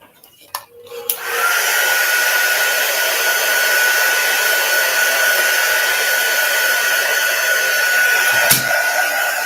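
A hair dryer switches on after a few clicks and blows steadily and loudly at close range, drying chalk paste with a constant whooshing hum and a faint whine, no talk.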